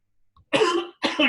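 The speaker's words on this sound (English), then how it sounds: "cough." Two sharp coughs in quick succession, close and loud, with a brief pause between them.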